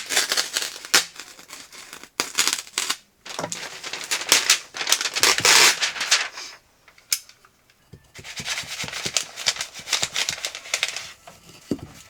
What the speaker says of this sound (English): What I'm going to do is start by just cutting back some of this house wrap